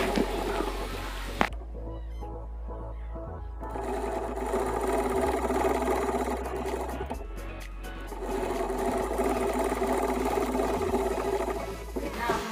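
A sewing machine stitching a pillow cover runs with a steady, close mechanical whirr and rapid needle chatter, pausing briefly near the start and again mid-way before resuming.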